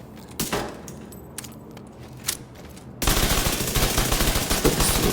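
Video game gunfire at the shooting range in The Division 2 from a Ridgeway's Pride SMG: a few scattered shots and clicks, then a loud sustained burst of rapid automatic fire for the last two seconds.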